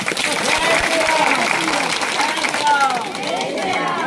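A loud crowd claps steadily throughout, dense applause with scattered cheers and voices mixed in, at a religious village gathering.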